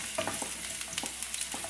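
Chopped shallots sauté in hot oil in a pan, a soft, steady sizzle broken by a few quick spatula stirs, close and fairly quiet with no one speaking.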